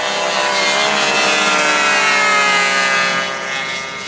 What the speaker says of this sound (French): On attend les verts et c'est un départ dans quelques instants.